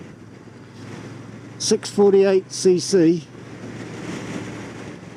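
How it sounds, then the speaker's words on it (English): Gusty wind buffeting a microphone outdoors during a look at a 2023 Royal Enfield Super Meteor 650 motorcycle, a steady low roar of wind noise with someone talking briefly in the middle. "Very windy today"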